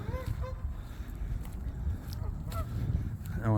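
Several geese honk intermittently nearby, short nasal calls scattered over a steady outdoor rumble, with a quick burst of honks at the end.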